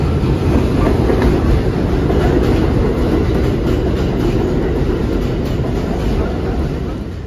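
A train rolls along its rails, a loud, dense, continuous rumble and rattle heard from on board, steady throughout with no voices.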